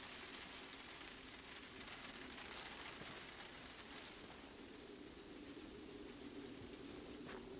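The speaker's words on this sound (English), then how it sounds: "Oh, it's raining." Steady rain falling in the video game Generation Zero, a dense, even hiss of drops that continues unbroken throughout at a soft, constant level.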